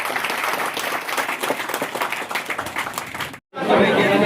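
A crowd at a village ancestor-remembrance gathering in Dihor gives loud, sustained applause, a thick wash of many clapping hands that cuts off abruptly near the end before a brief return of noisy sound.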